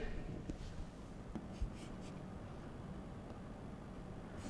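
Pen writing on paper, working through an accountancy journal entry narration, with faint scratchy strokes over a steady background hiss and no talking.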